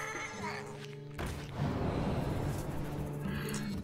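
A Pharaoh Cat card being played in the Hearthstone video game, with a brief cat meow over game music and effects, followed by a denser burst of in-game sound.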